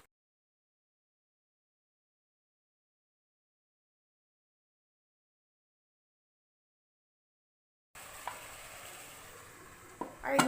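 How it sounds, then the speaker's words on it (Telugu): After a long silence, gongura mutton curry sizzles on high flame in the last few seconds while it is stirred, ending with a sharp scrape and clatter from the pan. "హై ఫ్లేమ్లో పెట్టి ఇలా తిప్పుకోవాలండి."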